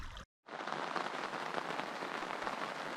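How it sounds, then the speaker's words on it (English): Rain falls on a campsite at Miniss Lake, a soft continuous patter and hiss after a brief silent cut, close and even with no voices. "Wednesday morning we woke up to rain."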